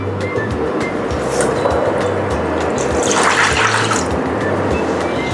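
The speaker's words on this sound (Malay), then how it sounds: "Dan kita masukkan air." Water poured steadily into a wok holding sugar and plain agar-agar powder, a loud continuous splashing gush that lasts throughout, with a low rumbling hum underneath.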